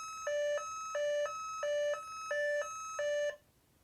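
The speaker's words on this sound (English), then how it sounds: "The incessant beeping of this sensor prevents you from hiding from your enemies." An electronic laser tag sensor beeps five times in an even, repeating two-tone pattern, clear and fairly close, then stops abruptly.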